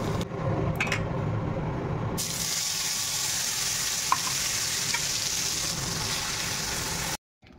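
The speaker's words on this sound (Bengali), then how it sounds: "পটল ভাজাটা বসিয়ে দিলাম, পটলগুলো লাল লাল করে ভেজে নিয়েছি।" Pointed gourd frying in a pan, a continuous loud sizzle with some running-water-like hiss, steady for several seconds before cutting off abruptly near the end; no talking.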